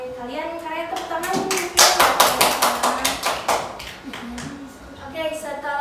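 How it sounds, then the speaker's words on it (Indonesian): A class of students claps together in a rhythmic run of about a dozen sharp, even claps at a close distance, with talking before and after. "Kalian tepuk tangan."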